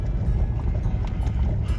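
Horse hooves clip-clop on a trail in a steady, muffled rhythm under low outdoor rumble at a campsite in Texas.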